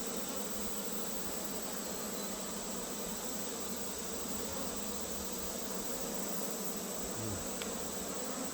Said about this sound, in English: I was working the bees without a veil, without a jacket, without anything